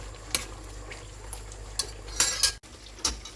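Green chilli and ginger paste frying in a pan, stirred with a metal spoon: scattered sharp utensil clinks and scrapes against the pan over a low, soft sizzle.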